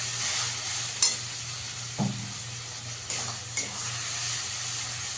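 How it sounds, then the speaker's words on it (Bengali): A spoon stirs fried onion, tomato paste and spice masala in a hot pan for a spiny gourd curry with nut paste. A steady sizzle runs throughout, broken by a few sharp scrapes and taps against the pan. "ভালো করে মিশিয়ে নেব।"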